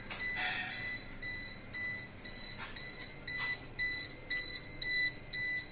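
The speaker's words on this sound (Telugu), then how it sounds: "అలా బజర్ అనేది రావడం జరుగుతుంది" Trip indicator buzzer on an MCC panel after a motor trip, giving a steady run of short, bright electronic beeps at an even, quick rhythm, moderately loud and close, with no talking.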